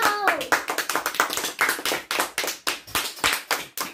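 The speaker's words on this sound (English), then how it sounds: "Clap for me." A family clapping their hands in a brisk, steady rhythm, close and crisp, with a brief voice at the very start.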